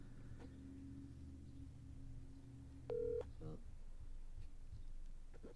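A telephone call being placed, with a short electronic dial tone or beep over low background rumble and a brief scraping handling sound.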